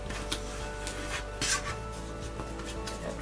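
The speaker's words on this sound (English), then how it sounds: "You have to fold these ones in and burnish them." Paper folds on a paper house being pressed and burnished with a bone folder, giving soft rubbing and rasping strokes with a brief louder scrape near the middle, close and fairly quiet.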